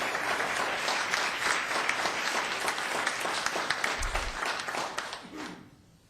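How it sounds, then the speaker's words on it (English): Audience applause at a city planning commission meeting, a steady dense wash of clapping from a room full of people that holds for several seconds, then thins and fades out toward the end. "And one more time, a big round of applause."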